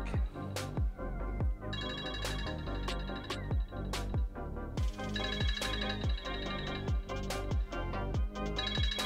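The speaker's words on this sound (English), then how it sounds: "My phone shouldn't be ringing yet." A mobile phone ringtone plays a repeating melodic pattern of bright chiming tones, clear and fairly close, with no talking over it.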